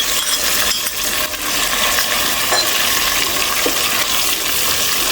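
Turmeric and ajwain spices fry and are stirred in a pan for dhaba-style achari dal chana, giving a loud, steady sizzle with scraping stirs throughout and no talking.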